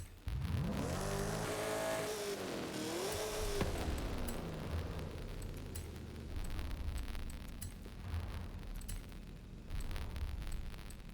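Car engine in Forza Horizon 5, comparing a stock engine with a fully upgraded one, revs loudly with rising and falling pitch sweeps early on, then settles into a steady, sustained roar of driving for the rest of the stretch.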